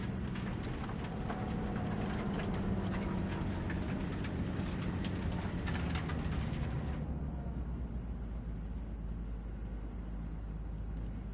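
A train in the video game Cyberpunk 2077 sends out a steady, loud rumble with a dense low-end roar and clattering texture, holding constant for about seven seconds before the upper hiss drops away and a deep drone carries on alone.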